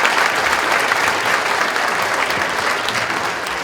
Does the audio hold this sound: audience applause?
yes